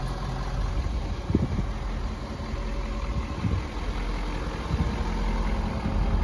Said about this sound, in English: Both trucks are running and they sound similar.